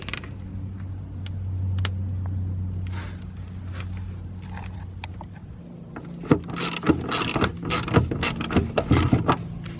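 Ratchet clicks in quick, uneven bursts as it loosens the front wheel-well cover bolts on a Toyota Grand Highlander, preceded by a steady low hum.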